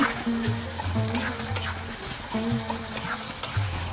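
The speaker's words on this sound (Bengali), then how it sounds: "আমি এখন পেস্টে কিছুক্ষণ ভেজে নিব।" Spice paste for a barracuda and eggplant curry frying in a pan, a continuous close sizzle with scraping stirs in a recurring rhythm and faint tonal clinks, no talking.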